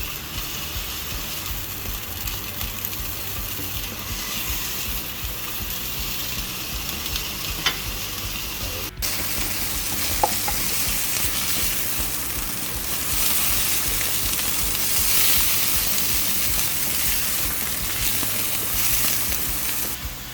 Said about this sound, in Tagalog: 5 minutes of cooking. Frying pan, 5 minutes.